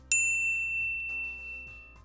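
One bright notification bell ding strikes at the start, then rings out with a clear fading tone over a quiet background.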